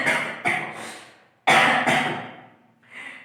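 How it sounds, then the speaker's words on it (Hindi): A teacher's harsh coughing fit in a classroom lesson, a series of loud, close coughs in two clusters followed by a softer throat-clearing rasp. "ऐसे ही बोलते बोलते आ गया खांसी।"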